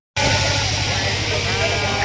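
Sheep bleating during a shearing gathering of a traditional shepherd flock, a sustained loud cry over a low engine-like hum and crowd noise, with people talking.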